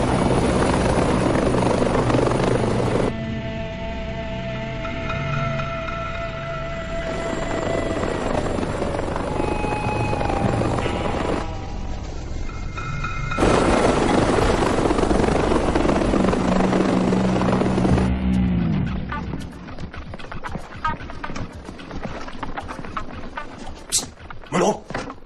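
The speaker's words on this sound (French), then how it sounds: "C'est un hélico qui s'amène, Iceman!" A helicopter arrives with a loud, steady rotor and engine roar that dominates for most of the time, then gives way to rougher rumbling and thuds near the end.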